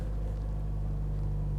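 A 2016 Scion iM with its 1.8-litre engine idling, a steady low hum with a constant drone, close by and unchanging, no voices over it.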